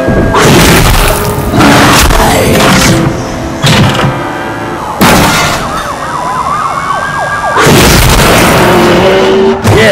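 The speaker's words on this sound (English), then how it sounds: "a big explosion" Loud booming blasts in the video game The Darkness II burst out in repeated waves, with wailing siren-like tones and heavy rumble filling the gaps between explosions.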